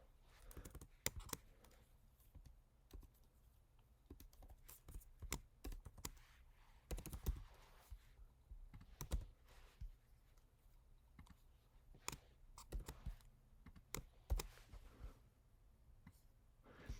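Quiet, irregular typing on a computer keyboard, bursts of soft key clicks with short pauses between them, close by and alone.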